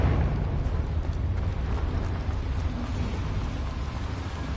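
A Confringo spell blast in Hogwarts Legacy, set in a cramped mine, a dense roaring rumble of fire and debris that fills the whole moment at steady loudness.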